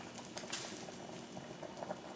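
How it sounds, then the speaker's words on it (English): Condensation drips while a red cabbage drink with Szechuan chili sauce cooks, giving faint, irregular soft ticks and patters over a low, steady simmering hiss in a quiet summertime kitchen. "What is dripping?"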